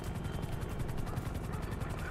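A police helicopter in GTA 5 roleplay gives a steady, rapid rotor chop, evenly pulsing and fairly loud throughout the short stretch, with no voices over it.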